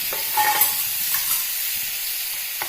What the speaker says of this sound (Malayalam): തക്കാളി നമുക്ക് അതിലേക്ക് ചേർത്ത് കൊടുക്കാം.